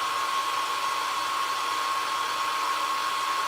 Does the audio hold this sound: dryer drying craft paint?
yes